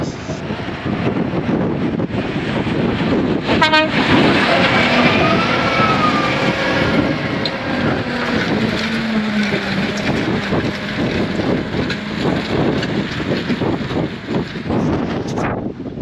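Claas Xerion tractor driving across a farm, a continuous loud engine rumble heavily buffeted by wind noise on the microphone throughout.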